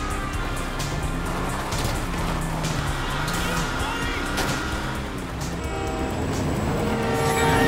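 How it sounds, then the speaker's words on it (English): A train rumbles past inside Grand Theft Auto V during a car chase, a dense, sustained roar of rail noise and engine under loud, shouting voices, swelling toward the end. "Beat the train, man!"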